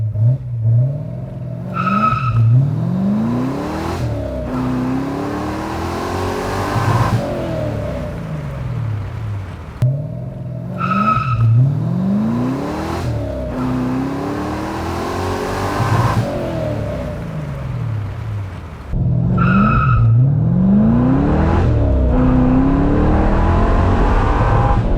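A V8-swapped Mazda Miata launching hard for 0-60 mph runs, engine revving loud and rising through repeated gear pulls with tire squeal, heard close from inside the car, no talking.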